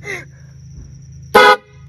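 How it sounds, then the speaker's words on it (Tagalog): An air horn stuffed inside a backpack gives one short, loud, blaring blast of about a quarter second, with a steady low hum and a voice just before it. "Air horn o busina?"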